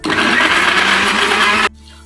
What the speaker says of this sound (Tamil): மிக்ஸி ஜார்ல போட்டு அரைக்க போறோம்